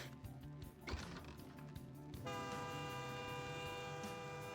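Train air horns sound in a rail yard in the game Vampire: the Masquerade Bloodlines, a sustained tonal blast kicking in midway over rumbling rail noise, moderately distant, with no talking.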